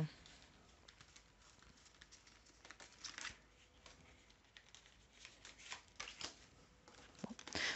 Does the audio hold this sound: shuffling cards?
yes